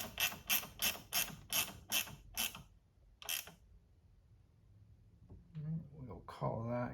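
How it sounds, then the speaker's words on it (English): A ratchet wrench snugs up the 12V battery terminals on a Chevrolet Bolt EV, giving a quick series of close clicking strokes that ends in a pause, then a brief voice and handling noise. "Just gonna use my wrench and snug them up good and proper"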